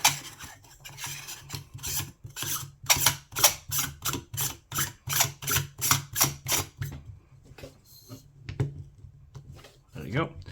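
Threaded part being screwed in tight on a VFC HK416A5 V3 gas blowback airsoft rifle, giving a run of rhythmic rasping, ratcheting turns close up, with a few scattered clicks and handling noises near the end.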